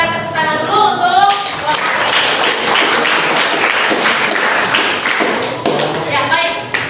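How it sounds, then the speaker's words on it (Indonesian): Indoor training-session audience clapping for a group, a dense, steady burst of applause lasting several seconds and close at hand, with some voices mixed in. "Sekarang kita berikan tepuk tangan dulu untuk"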